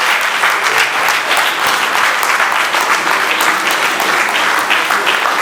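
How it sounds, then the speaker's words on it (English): Dense, steady applause from a lecture audience fills the whole stretch, many hands clapping at an even loudness with no voice on top. "we just give the round of applause"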